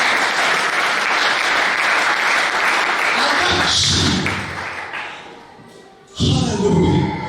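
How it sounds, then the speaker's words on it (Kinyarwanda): Congregational applause in a church service, a dense sustained wash of many hands clapping loudly for about five seconds, fading briefly before a fresh burst of clapping with a low thump returns near the end. "Reka dukomere Imana yacu amashyi."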